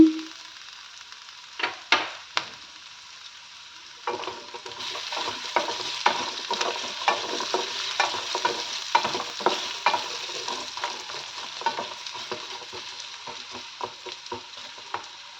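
Raw mango pieces frying in a pan, a continuous sizzle broken by frequent rhythmic scrapes and taps of a stirring spoon, close up and with no speech.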